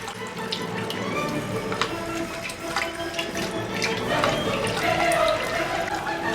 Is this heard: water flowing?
yes